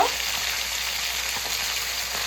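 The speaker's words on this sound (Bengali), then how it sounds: "মাথাগুলো ভাজা হয়ে গেছে, এবার আমি নামিয়ে নেব।" Steady, close sizzling of rohu fish heads frying in hot oil, an even hiss that continues without a break.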